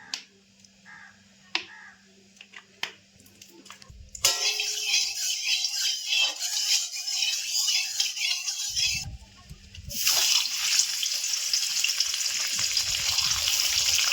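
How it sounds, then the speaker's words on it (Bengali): Whole paneer frying in white oil in a hot wok for palak paneer: after a few quiet clicks, a loud steady sizzle bursts in close, fades briefly, then surges again even stronger, with no talking. "পনিরটা ভেজে নেব কড়া চাপিয়ে দিলাম পনিরটা পিচ না করে আমি গোটা ভেজে নেব কড়া গরম হয়ে গেছে দিয়ে দিচ্ছি সাদা তেল"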